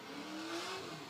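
Drift cars pass by during a rainy practice session, one engine note rising and sustained for about a second at moderate distance, with no talking over it.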